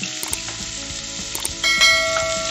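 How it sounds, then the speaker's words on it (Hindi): Finely chopped onion hits hot oil with cumin seeds and sizzles steadily, with a few light metallic taps and clinks of a spoon against the pan. The frying swells louder and brighter after a fresh addition partway through. "अब इसमें डाल दूंगी मैं बारीक कटा हुआ प्याज"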